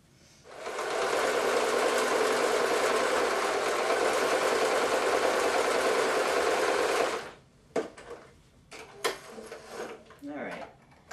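A sewing machine stitches the side seams of a Renaissance-style blouse, a loud steady whir running for several seconds before stopping, followed by scattered clicks and handling noises of the fabric.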